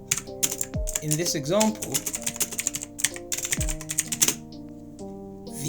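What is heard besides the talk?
typing on a computer keyboard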